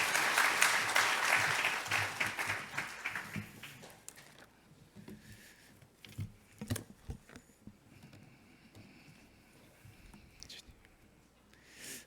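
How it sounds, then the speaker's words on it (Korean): A church congregation applauds to welcome a visiting pastor, with dense, fairly loud clapping for about four seconds that then thins to scattered claps and low murmuring voices. "박수로 환영해 주시기 바랍니다"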